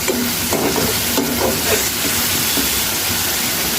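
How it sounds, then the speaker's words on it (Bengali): Shrimp is stirred into a jackfruit seed curry in a pan, giving a dense, continuous close sizzle with soft rhythmic scraping of the spoon throughout. "এর মধ্যে চিংড়ি মাছ দিয়ে দিব, দিয়ে আর একটু ভালো করে নেড়ে নিব"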